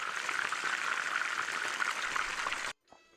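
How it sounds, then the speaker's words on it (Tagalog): Tilapia fillet sizzling and spitting as it fries in hot oil in a pan, a steady dense crackle running loud and close before cutting off abruptly near the end, followed by a faint clatter. "habang piniprito nga natin yung kabilang parte ng tilapia"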